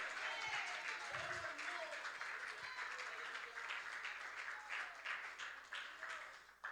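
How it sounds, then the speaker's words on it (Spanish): Church congregation applauding at an evening service, a steady wash of clapping throughout with faint voices mixed in. "No sé si quiere darle un fuerte aplauso al Señor, hermano, esta noche"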